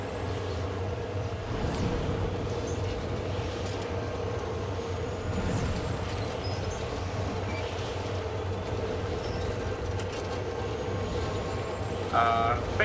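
Train in the Dead Space 2 video game rumbles steadily with a low, continuous rolling drone and faint metallic tones, unchanged throughout, with a brief louder clatter at the end.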